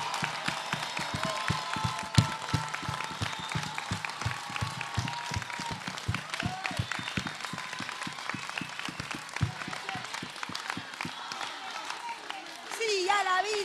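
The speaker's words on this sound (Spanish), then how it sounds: "Fuerte aplauso para esta Argentina que se levanta" A crowd at the Marcha por la Vida in Argentina applauds steadily, with rhythmic clapping that runs throughout under chanting voices and swells louder near the end.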